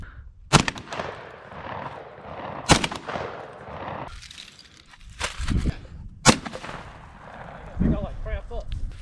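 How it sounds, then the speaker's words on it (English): Several loud, sharp blasts from Tannerite charges set off against a small computer monitor during an outdoor shoot, four or five booming cracks spread across the span with short rumbling decays and some talk between them. "About to blast this little 20 hertz monitor all to pieces."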